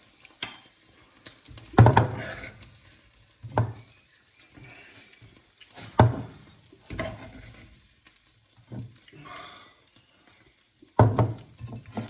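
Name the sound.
scraping the bottom of a paella pan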